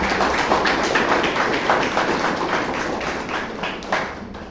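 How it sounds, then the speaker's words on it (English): Steady applause from a crowd at a Toastmasters meeting in Bangalore, a dense wash of many hands clapping continuously at moderate volume throughout. "Please give a big round of applause for that."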